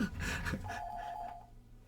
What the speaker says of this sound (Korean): 전화가 왔는데요